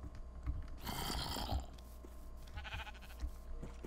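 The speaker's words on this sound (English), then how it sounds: "Sheep, okay." A sheep bleats in the Hexxit Minecraft modpack, one short nasal call around the first second over game ambience and faint background noise, with no talking.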